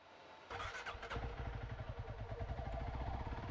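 A Honda CRF300 Rally motorcycle cranks and fires up about half a second in, then settles into a close, steady, slightly uneven single-cylinder idle with a rhythmic low thump.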